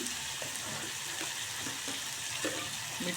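Tomatoes sauté in a pan over a high gas flame, giving a soft, even sizzle with faint stirring touches, fairly quiet and steady throughout, no voices.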